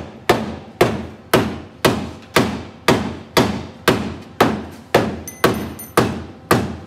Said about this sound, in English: bring me those two hammers.